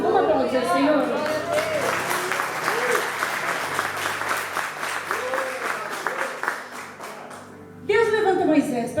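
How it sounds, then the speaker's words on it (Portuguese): Congregation at a church service breaking into sustained applause for several seconds, dense clapping with crowd chatter, while a voice speaks over it at the start and end. "Vamos aplaudir o Senhor?"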